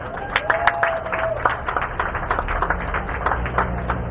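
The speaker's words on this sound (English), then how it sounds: "So I want you all to give yourself a round of applause." Crowd applause at a People's Alliance Network political rally, a dense, continuous wash of clapping from many hands with scattered sharper claps, fairly loud and sustained throughout.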